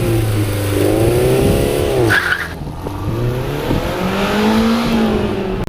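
A 1991 Toyota MR2 Turbo accelerates hard. Its engine note rises through the gears, the tires give a brief squeal, and the car stays close and loud from start to end.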